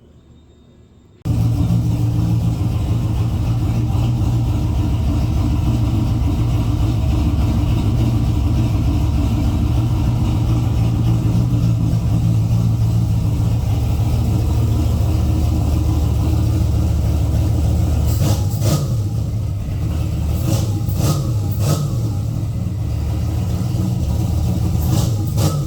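Datsun Z car engine running after a rebuild, still needing tuning, a loud steady idle rumble close by that kicks in abruptly and continues throughout, with a few brief sharper blips near the end.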